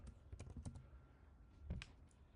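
Quiet typing on a computer keyboard, a quick cluster of light key clicks, a pause, then a few more taps, faint and close with no voices.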